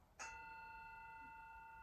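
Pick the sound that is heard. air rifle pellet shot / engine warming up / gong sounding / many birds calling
gong sounding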